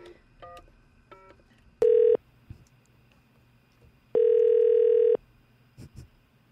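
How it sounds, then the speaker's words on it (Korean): Telephone dialing for an outgoing call: a few quick keypad beep tones, then two long steady call tones, the second lasting about a second, with faint background hiss between. "자, 그럼 부자에게 전화 연결을."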